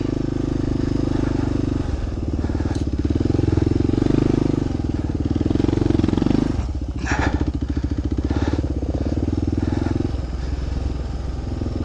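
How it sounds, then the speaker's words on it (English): A motorcycle climbs a rough, gnarly dirt hill, its loud, close engine labouring and pulsing, with a rattling chug around the middle and rising and falling throttle, and no talking. "This bike is not easy to ride on gnarly stuff"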